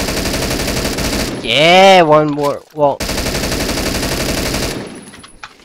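Rapid automatic gunfire in a shooter video game, loud close bursts of rattling shots with a short pause, while someone speaks briefly and exclaims in a rising voice over the shooting.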